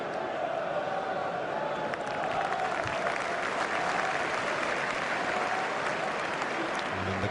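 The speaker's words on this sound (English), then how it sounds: "I always find it amazing when the fans clap the opposition's player when he throws the ball back" Football crowd at an Arsenal versus Shrewsbury Town match applauding an opposing player, a continuous broad wash of stadium clapping throughout, with faint crowd murmur mixed in.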